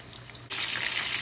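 Italian chicken cutlets fry in a pan. A low background hiss jumps abruptly into a loud, steady, broadband sizzle that continues close up without talk.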